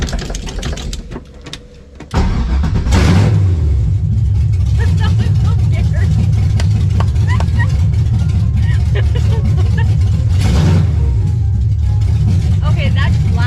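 A 6.0L V8 engine swapped into a BMW starts and runs loudly, settling from a rough catch into a heavy, steady rumbling idle with revving surges, with people talking over it.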